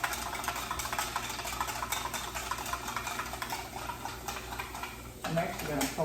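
Softened pepper and onion being stirred in a pan for a turkey taco casserole: quiet scraping and soft sizzling under light talk, with a louder scrape and clink near the end.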